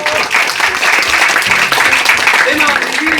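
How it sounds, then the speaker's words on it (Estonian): An audience bursts into sustained applause at the opening of a puppet theatre's summer stage at Rakvere castle, a dense wash of clapping with voices mixed in. "Teeme talle aplausi!"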